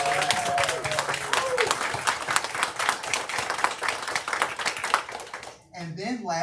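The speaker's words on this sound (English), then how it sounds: "So can we clap it up for them?" An audience at a school board meeting applauds school staff, with dense, sustained clapping from a crowd filling the room, which ends abruptly near the close as a voice begins speaking.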